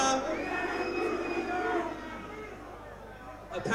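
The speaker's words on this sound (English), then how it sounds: "I want another cheer for her." A crowd at the Bug Jam Volkswagen Beetle show cheers and chatters in a broad, sustained wash of voices, while someone talks over it.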